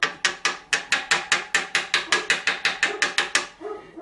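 Steady series of sharp metallic taps from a long socket driving a Honda camshaft position sensor into its bore, about fifteen evenly spaced close hits over a few seconds, ending with a softer scrape.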